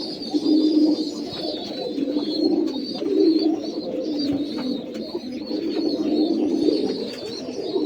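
Pigeons coo steadily inside a newly built pigeon house, a close, continuous layered cooing from several birds with faint higher chirps over the top.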